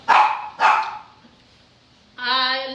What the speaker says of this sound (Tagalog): Lagi na lang may mga maingay na aso.